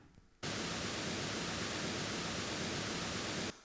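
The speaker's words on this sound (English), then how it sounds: "This is just filter noise" Synthesized filtered noise for gramophone surface-noise synthesis, a steady broadband hiss that switches on abruptly, holds at an even level for about three seconds with faint periodic texture, then cuts off.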